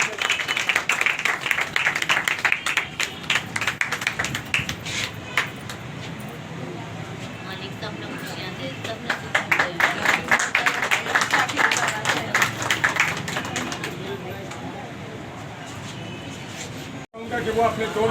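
A crowd at a workers' union gathering breaks into loud, sustained applause, with dense clapping that swells twice over the span, mixed with voices and some distant traffic noise.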